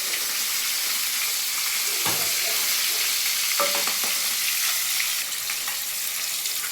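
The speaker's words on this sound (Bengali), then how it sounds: "এই যে মাছটা ভাজা হচ্ছে মাছগুলো পিসগুলো অনেক বড় বড়" Large pieces of fish frying in a pan give a steady, close sizzle throughout, with a few louder crackles and spatters as the pieces are moved or stirred.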